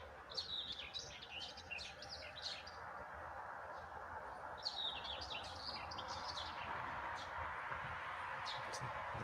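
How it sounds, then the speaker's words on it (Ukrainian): A nightingale sings in the morning near a garden with rose bushes, giving quick bursts of bright, high chirps and trills in two clusters against a quiet, faint background. "І так я кожен ранок слухаю цього соловейка."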